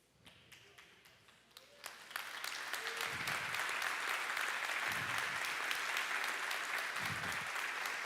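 Church congregation applauding during a sermon, starting with scattered claps that swell into sustained loud applause filling the room, with a few low thumps underneath.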